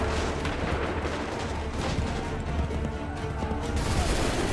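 Musket and cannon fire in Assassin's Creed III, a dense, continuous barrage of overlapping shots and booms, loud and sustained throughout.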